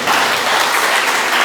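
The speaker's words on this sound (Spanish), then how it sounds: "Denles aplauso a Jesús." Church congregation applauding during a Spanish-language service, a dense, even burst of clapping filling the room for a moment, loud and close.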